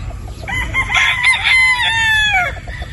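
Gamefowl roosters, battle stags, crow loudly and close by while hens cluck and chatter in the background, with a long rising-and-falling crow dominating the middle of the sound.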